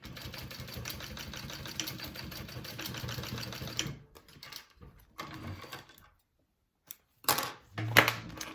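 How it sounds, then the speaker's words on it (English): A sewing machine basts a fabric panel for a bag, running in one steady continuous burst, then stopping and starting in short intermittent spurts with pauses between. "I'm gonna go ahead and sew that on, baste it on"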